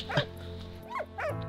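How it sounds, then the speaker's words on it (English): A dog barks repeatedly in a video game, three sharp yipping barks spaced across the moment, loud and close over a steady low background hum. "Why are you still barking?"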